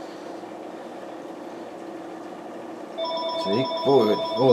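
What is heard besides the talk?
phone ringing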